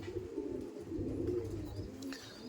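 Rampuri and Firozpuri pigeons coo in a low, steady, rolling murmur that carries on without a break, close and moderately loud, with faint chirps from other birds now and then.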